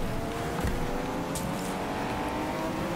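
A race car engine in the Wreckfest demolition racing game holds a steady, loud roar throughout, with a brief higher screech partway in, and no talk over it.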